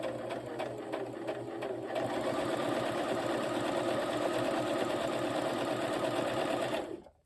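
A Brother LX3817 sewing machine runs fast and steadily through fabric for about seven seconds at close range, then winds down and stops, with no one speaking.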